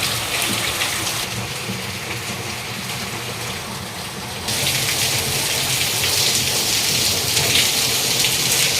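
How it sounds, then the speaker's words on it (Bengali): Heavy downpour seen through a window gap at night, a steady dense hiss of rain that grows a little louder partway through and continues without pause. "ওই দেখুন কেমন বৃষ্টিটা পড়ছে"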